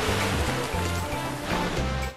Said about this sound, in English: Now the tub is overflowing.